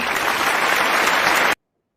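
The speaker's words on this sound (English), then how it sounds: "some applause for Camilla" An audience claps for Camilla, a dense, even burst of applause heard up close for about a second and a half before it cuts off abruptly into silence.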